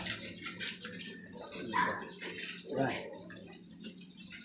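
Tap water runs steadily while food is rinsed under it, a close, soft hiss with light splashes, and a voice speaks briefly over it.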